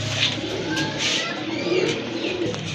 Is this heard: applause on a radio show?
no